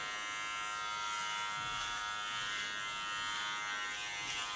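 A steady, close electric hair clipper buzzes without pause throughout a nape shave on long hair, its hum constant in pitch with no voices.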